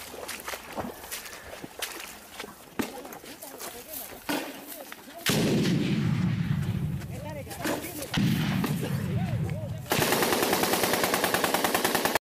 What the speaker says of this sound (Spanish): Otra vez aquí tenemos al hombre de la ametralladora disparando totalmente de pie